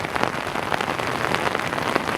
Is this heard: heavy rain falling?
yes